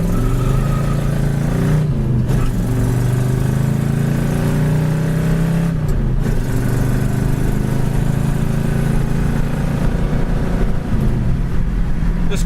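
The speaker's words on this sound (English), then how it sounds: "Car goes down the road 60 mile an hour, does not need an alignment." A red 1967 Ford Mustang with a 4-speed manual cruises down the road at about 60 mph. A steady, loud engine drone and road rumble continue throughout, with brief dips in the wind and tire noise.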